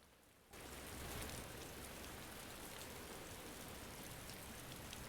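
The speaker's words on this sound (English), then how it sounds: "I was wondering why the rain was so quiet." Quiet rain ambience from a video game starts abruptly after a brief near-silence, then continues as a soft, steady patter and hiss of rain.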